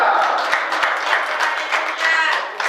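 Steady clapping from a church congregation fills the whole stretch, a dense patter of many hands with a few sharper claps standing out.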